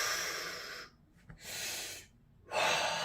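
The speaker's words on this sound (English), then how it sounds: "take a deep breath in through your mouth" A deep belly breath drawn in through the mouth, heard as a strong airy inhale that breaks off, then another long breath and a loud final rush of air, all close to the microphone without talk.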